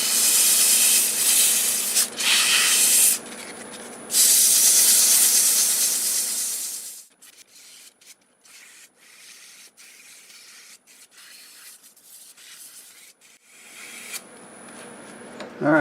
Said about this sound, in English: I'll get this all sanded up to 400